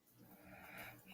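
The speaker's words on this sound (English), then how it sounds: "Somebody snoring." A person snores faintly, a low raspy drawn-out breath with a nasal rattle, quiet and alone.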